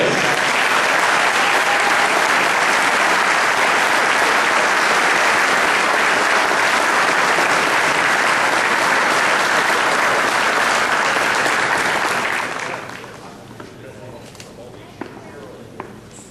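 Sustained loud audience applause fills a hall during a university wall of fame induction ceremony, steady clapping for about twelve seconds before fading abruptly to quiet room tone with a few scattered claps.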